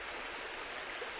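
Waterfall at Double Rock Park pours in a steady, even rush of flowing water, faint and continuous with no other sounds.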